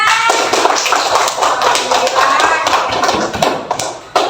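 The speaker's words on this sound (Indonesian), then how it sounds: "Oke, tepuk tangan semuanya." Students in a classroom during a geometry lesson clap together in a close, busy patter of hand claps and taps that continues throughout, mixed with voices and some shuffling.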